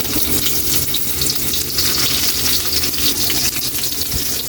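Onion and garlic fry in hot oil for dinuguan, giving a loud, steady sizzle with crackling pops and some stirring clatter, close up and without talk.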